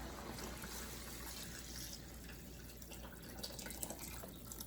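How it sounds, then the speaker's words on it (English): Water being added to a pot of simmering beef stew gives a soft, continuous trickle and faint dripping, quiet and steady over a low background hiss, with no voices. "I'm going to add a little bit more water because the beef is still very tough."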